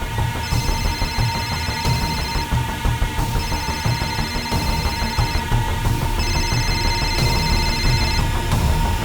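A telephone ringing inside a house, repeated electronic rings in a steady on-off pattern, sounding over a loud, busy background of music or noise.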